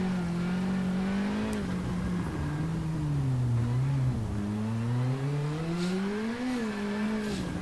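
A WRC2 rally car in the WRC 7 video game, driven on the Monte Carlo Rally, holds a steady, loud engine drone throughout, its pitch rising and falling as the driver works the throttle and shifts.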